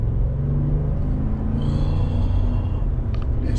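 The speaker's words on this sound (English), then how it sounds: "And I wasn't even on it hard right there. That's just normal acceleration." A 2019 Ford F-150 Lariat pickup with the 5.0 Coyote V8 under normal acceleration, a deep, steady engine rumble heard from inside the cab, with a faint rising whine near the end.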